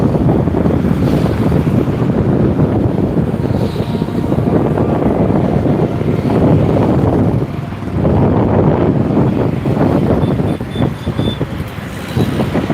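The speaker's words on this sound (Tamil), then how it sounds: "காற்று நல்லா செம்ம ஸ்பீடாக சுற்றி இருக்குது பாருங்க" Strong wind roars and buffets the microphone continuously on the Kaveri bridge in Trichy, with a rushing, surf-like wash underneath and no talking.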